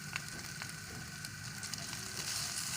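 Shredded chicken sizzling steadily in hot ghee with ginger, a soft continuous frying hiss with faint stirring crackles, heard close and alone.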